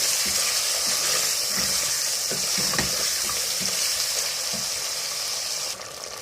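Mutton stirred with salt and spices in a hot pan, a steady loud sizzle of frying with scraping stirring strokes throughout, no voices.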